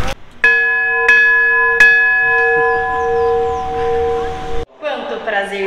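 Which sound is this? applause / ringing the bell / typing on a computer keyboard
ringing the bell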